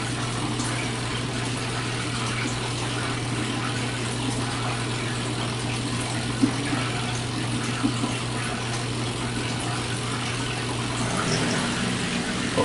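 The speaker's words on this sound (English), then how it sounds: "It drains in an ordinary sink. I'm using the kitchen sink" Laundry Alternative Superpop washer's drain pump pushing water into a kitchen sink, a steady low motor hum with continuous gushing water running evenly for the whole stretch, close and moderately loud.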